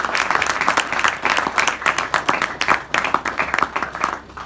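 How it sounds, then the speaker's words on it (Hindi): An audience in a class session claps for children, a moderately close, uneven burst of many hands with distinct individual claps standing out in a choppy rhythm, thinning toward the end. "तो जोरदार बच्चों के लिए तालियां बजाओ।"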